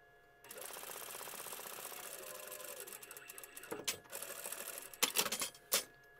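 A sewing machine stitches the side seam of a rag doll's trapeze dress, running in a steady rapid whir for a few seconds before a handful of sharper clicks and knocks as it stops and the fabric is handled.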